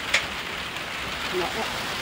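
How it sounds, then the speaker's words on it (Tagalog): Heavy rain falls in a steady, close hiss of drops on surfaces, with a faint voice murmuring briefly beneath it. "Naririnig yung ulan, diba?"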